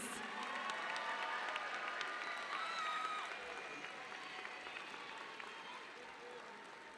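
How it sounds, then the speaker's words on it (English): A crowd applauds and cheers for the graduating class at a high school commencement ceremony. The clapping is sustained but fairly distant and soft, and it slowly tapers off over several seconds. "please give them another round of applause"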